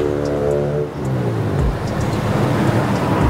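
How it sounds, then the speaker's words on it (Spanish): A pickup truck strains to climb a very steep street in Mexico City, its engine a low, labouring rumble that stays close and steady throughout, with traffic noise around it. "Esa camioneta ya no subió, se quedó hasta en medio,"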